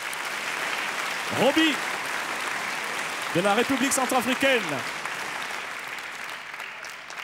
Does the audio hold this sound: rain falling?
no